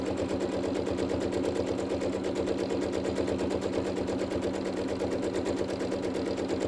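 Sewing machine stitching during free motion quilting of tiny stipple patterns, a rapid, steady mechanical chatter of close needle strokes, loud and continuous with no voices.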